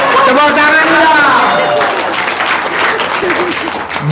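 A short burst of audience clapping in an Indonesian testimonial gathering, loud and close, with voices talking over it at the start.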